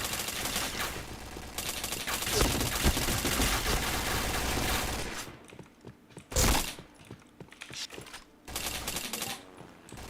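Gunfire in the online shooter Point Blank during a live match, with dense bursts of automatic fire and rapid shots, a loud single crack in the middle, and quieter scattered shots among continuous game noise.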